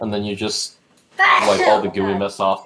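A single sharp sneeze bursts out between stretches of a person talking indoors while setting up a desk.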